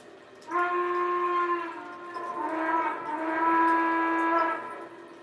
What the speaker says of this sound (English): It's the hooter whistle